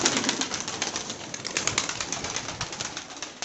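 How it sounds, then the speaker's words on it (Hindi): A flock of pigeons released from their loft outdoors makes a steady, dense stream of cooing and chatter with occasional wing flaps, fairly close and continuous. "कबूतर शबूतर सब खुले हुए हैं, आज खोल दिए मैंने"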